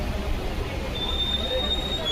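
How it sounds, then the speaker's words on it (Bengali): Steady low rumble of a train rolling slowly into Bardhaman station, with a thin metallic brake squeal rising partway through. "আস্তে আস্তে করে ট্রেনটা ঢুকছে।"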